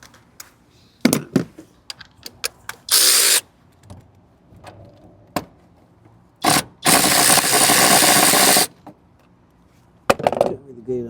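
On a 2011 Toyota Camry, a wrench works loose the 12 mm nut on the starter wire, producing sharp metallic clicks and taps in scattered bursts, broken by longer stretches of loud ratcheting rasp.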